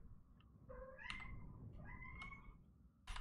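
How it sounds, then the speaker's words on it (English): A house cat meows for attention, several short rising meows in a row, close and fairly clear over low background hum. "if you could hear that, that's my cat wanting attention."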